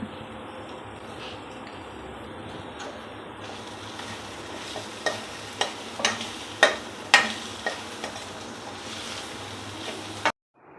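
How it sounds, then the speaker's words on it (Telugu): Pepper chicken frying in a pan makes a steady, low sizzle with scattered crackles, joined midway by several sharp clacks of stirring against the pan before the sound cuts off near the end. "ఈ పొడి వేసుకున్న తర్వాత 1 నిమిషం వేయించుకోండి చాలు."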